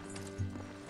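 Horse hooves clop in the video game Red Dead Redemption 2, a brief, faint hoof strike or two over a steady low game hum.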